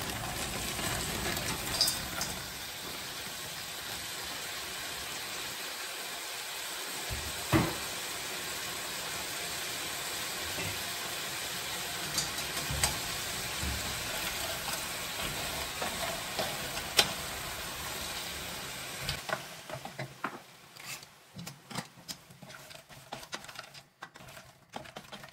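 Seafood frying in a pan for a seafood cassoulet, a continuous close sizzle with a few stirring clicks, fading near the end as the heat settles.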